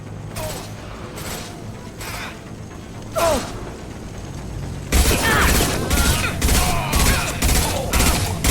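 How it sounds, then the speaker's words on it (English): Gunfire and a concussive shot in Mass Effect 2, with intermittent shots under a background bed, then a loud dense burst of rapid firing and impacts in the second half. "Firing concussive shot!"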